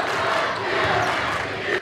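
A packed high school gym crowd at a small-town basketball game yells and cheers in a sustained, loud wall of noise with no breaks.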